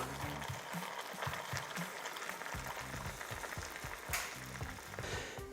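Veal stock poured over a pork shank in a pan, with a steady soft sizzle and bubbling liquid throughout, fairly faint and close.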